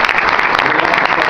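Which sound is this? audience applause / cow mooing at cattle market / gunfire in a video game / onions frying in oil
audience applause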